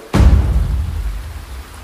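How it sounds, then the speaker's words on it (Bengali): Rain falling in a dramatized Bengali story scene, a sudden burst of heavy rain or a thunder crack followed by a steady low wash of downpour. "এই বৃষ্টির মধ্যে কথা ভাবছিল কি"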